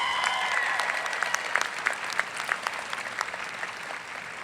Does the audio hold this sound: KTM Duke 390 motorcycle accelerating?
no